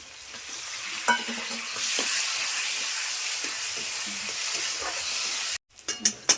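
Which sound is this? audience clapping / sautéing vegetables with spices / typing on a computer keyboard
sautéing vegetables with spices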